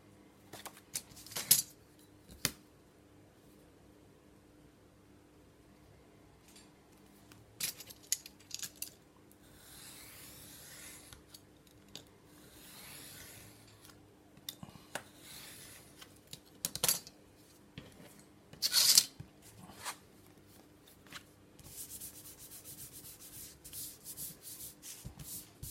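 Paper for a calendar cover is cut and handled at close range in a quiet room, giving intermittent scraping, rubbing and snipping sounds with a few sharp clicks separated by near silence.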